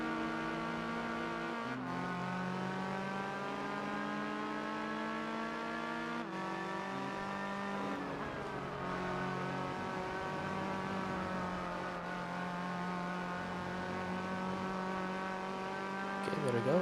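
Toyota Supra race cars in Gran Turismo 4 roar with steady high engine drones, pitches rising and dropping through gear shifts as two cars run in tandem, continuous and loud throughout.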